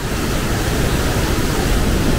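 A raging river roars through Tiger Leaping Gorge in a loud, steady, unbroken rush of water that fills the whole clip, with no voices over it.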